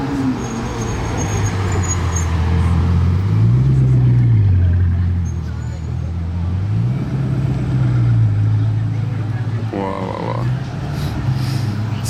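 A Bugatti Chiron supercar cruises through Juan-les-Pins streets, its engine a loud, close, low drone that swells and eases as it rolls past, with light street noise and a brief voice near the end.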